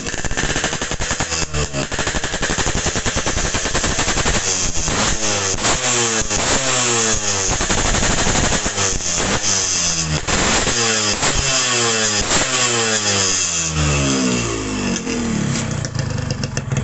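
A Yamaha RX King motorcycle with a modified exhaust filter revs loudly and harshly. The engine rises and falls in repeated throttle blips with a rough, crackling tone that runs through the whole stretch, close up.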